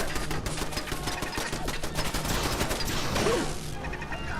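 Video game gunfire rattles in fast repeated bursts, loud and dense throughout, with heavy impacts and a sweeping whoosh near the end, and no voices over it.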